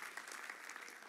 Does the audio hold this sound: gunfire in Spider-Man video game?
no